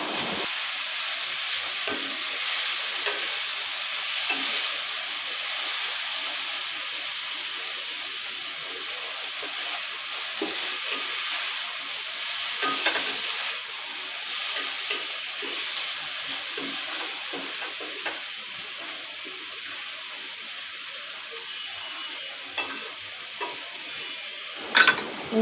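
Potatoes fry in a pan with a continuous bright sizzle and hiss, while scraping stirs rise and fall at irregular intervals throughout, close up with no talk.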